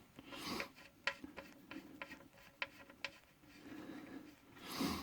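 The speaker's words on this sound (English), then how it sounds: "So we're just going to go ahead and unscrew it." A Mazda 3 GT oil drain bolt being turned out by hand, soft close rubbing and scraping with a few light ticks and clicks, quiet and intermittent.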